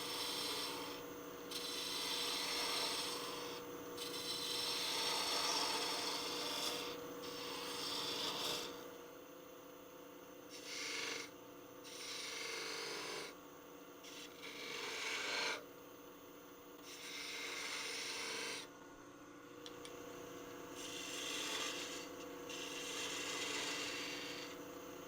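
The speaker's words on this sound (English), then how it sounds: "let's use the spindle gouge to kind of round this over" A spindle gouge rounds over a wooden ball handle for a mortar and pestle: a steady, close rasping scrape that comes in repeated passes with brief pauses between them, with no talking.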